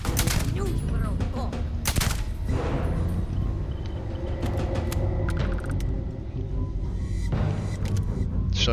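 Rapid bursts of automatic gunfire from turrets in a video game, loud and close, with repeated sharp volleys and booming thuds over a steady dense background, under occasional talk.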